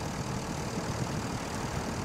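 In the SnowRunner video game, a tractor engine strains to drag a loaded truck out of deep mud, giving a continuous low, rough rumble at a steady level with no voices.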